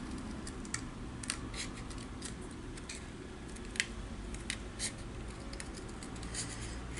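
Scissors snip through paper while cutting out a doll shape, leaving a margin around the figure: a string of crisp, close clicks and short cuts at an irregular pace over a steady low room hum, with no voices.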